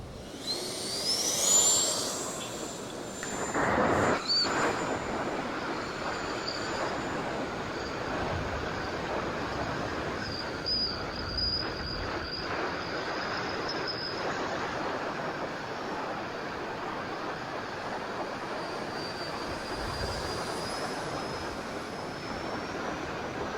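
Freewing L-15 64mm electric ducted-fan RC jet flying over a beach on a windy day: a steady, fairly distant whooshing whine rising and fading with passes, mixed with broadband wind rumble and no talking.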